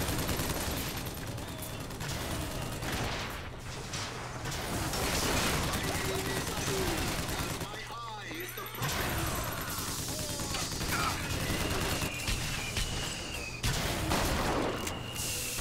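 Gunfire in the Bioshock Infinite video game, including shotgun blasts, crackles through a dense, busy battle soundscape of repeated shots and clatter, with voices heard in the mix.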